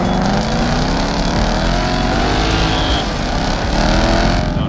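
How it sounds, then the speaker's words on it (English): Loud, continuous engine roar from a 624-horsepower Ford Mustang V8 with a turbo compressor doing burnouts, a steady heavy rumble with rising revs that fills the whole stretch without speech. "Now we're sitting in Ford Mustang V8 plus turbo compressor, who puts out 624 horsepower."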